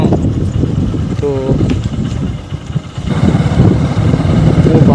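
A motorcycle engine runs steadily on a forested mountain road, a close, rumbling drone with wind noise, under a voice talking.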